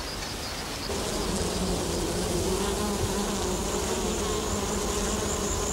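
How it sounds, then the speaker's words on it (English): Native stingless bees buzz continuously near a hive among rocks in the bush, a steady, fairly loud, close insect drone that holds throughout with no voices. "The native bee doesn't have a sting, and he looks like a little fly, a little bush fly just kicking around the place."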